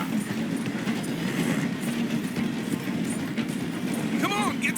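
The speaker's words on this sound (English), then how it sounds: "The train is slowing down to go through the station." A train slowing as it passes through a station in Red Dead Redemption 2: a steady rumble of wheels and rail noise under game dialogue, with horse clip-clop and a brief squeal near the end.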